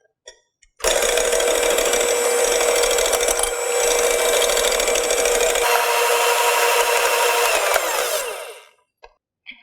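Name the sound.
electric hand mixer mixing apple cake batter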